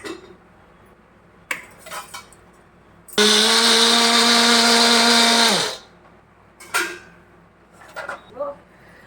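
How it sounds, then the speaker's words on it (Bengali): A kitchen blender whirs loudly for about two and a half seconds as it mixes a sweetened summer drink, set between quiet clinks and handling noises. "ব্লেন্ডারে দিয়ে আমি মিক্স করে নেব।"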